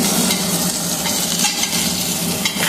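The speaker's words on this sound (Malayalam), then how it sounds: "ഇളക്കി കൊടുക്കാം ഇനി ഇളക്കി കൊടുക്കാം" Mustard seeds and chili fry and sizzle in a pan while being stirred for upma, giving a steady, close crackle with scraping stir strokes throughout.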